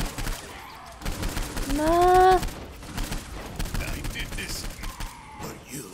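Rapid bursts of gunfire from the video game Saints Row 4 crackle throughout, with a rising electronic whine in the middle and people talking over the shooting.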